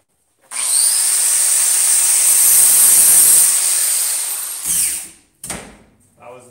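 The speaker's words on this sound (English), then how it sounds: "That was the wrong grinder." An angle grinder bites into metal in a welding art shop with a loud, close, high-pitched whine that runs for about four seconds and then winds down, followed by a couple of short bursts.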